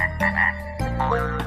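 Cartoon frog croaking in a children's animation, a quick series of loud, close, bubbly croaks with pitch sweeps, about six calls in under two seconds, no talking.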